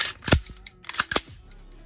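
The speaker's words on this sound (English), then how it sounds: "We're gonna pull the trigger, hold it to the rear, and then you're gonna charge that rifle twice." AR-15 rifle trigger pull followed by the charging handle racked twice, giving a sharp metallic click and then two loud, close mechanical clacks in quick succession with no talking.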